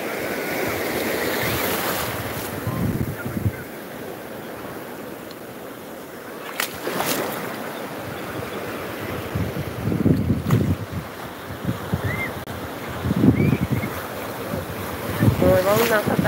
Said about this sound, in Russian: Ой, волна какая. Сильно брызгает, аж до телефона достает.